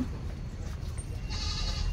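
A goat bleats faintly amid outdoor background noise, a short wavering call, during hand milking.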